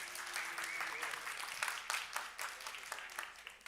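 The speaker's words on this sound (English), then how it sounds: "applause or no applause? Should he get a Duke?" Applause from a crowd, steady and fairly faint, with voices talking underneath.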